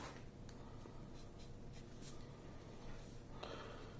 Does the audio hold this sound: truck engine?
no